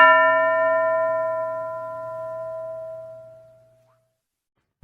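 A single bell struck once in a classroom lesson, a clear ringing tone with bright overtones that decays slowly over about four seconds before falling silent.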